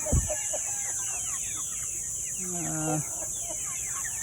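Chickens cluck and peep around a farmyard after Typhoon Aghon, with a short run of clear, repeated calls midway over steady outdoor background noise.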